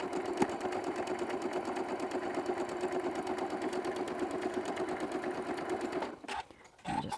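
A Janome M7 sewing machine top stitches fabric at a quarter-inch seam with the AccuFeed system engaged, its steady rapid needle chatter running continuously for about six seconds before stopping abruptly.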